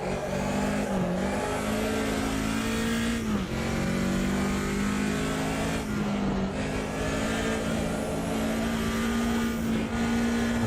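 Race car engine in Automobilista 2 on the historic Nürburgring Nordschleife, held at maximum RPM: a loud, steady, high-pitched howl that dips briefly at a few shifts, with no one talking.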